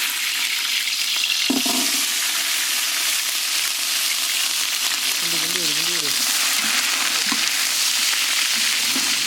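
Small onions and fennel seeds sizzle in hot oil in a pan during village cooking, a steady loud crackling fry with brief stirring knocks and a voice talking over it.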